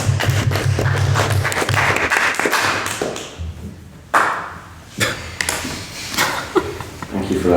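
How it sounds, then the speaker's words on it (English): Audience clapping at a formal evening debate on divesting from fossil funds, a loud burst of many hands at first that thins into scattered sharp claps and then dies away. "Thank you for that last clap."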